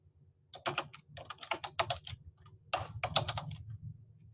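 Rapid bursts of keystrokes on a computer keyboard, entering sign-in details into a job seeker form; close, crisp clicking in two flurries separated by a short pause.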